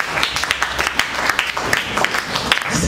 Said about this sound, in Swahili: Mpe Yesu makofi yote.